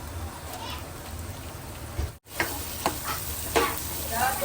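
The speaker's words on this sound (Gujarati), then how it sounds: "લસણ મરચાં સતળાઈ જાય પછી આપણે નાખશું ડુંગળી" Onion goes into garlic and chillies already sautéing in a small kadai for aloo sev shaak, giving a steady oily sizzle with stirring scrapes. The sizzle cuts out for a moment partway through, then resumes.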